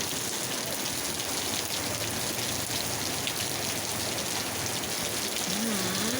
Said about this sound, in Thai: โดนฝน